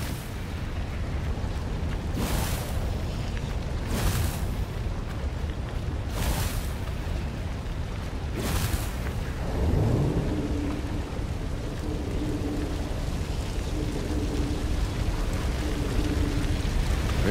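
Cannon traps in the video game Stories: The Path of Destinies fire in four separate booming blasts a couple of seconds apart over a rumbling backdrop, followed by a rising tonal whoosh and a sustained hum.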